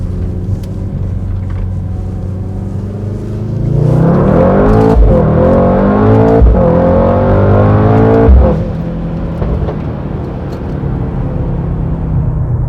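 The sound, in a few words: Mercedes AMG GT63S accelerating in AMG performance mode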